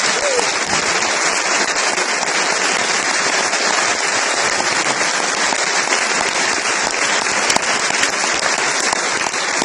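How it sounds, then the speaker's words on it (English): A large audience at an 8th grade academic award ceremony applauding continuously, dense steady clapping that stays loud from start to finish. "give them one huge big round of applause for their efforts"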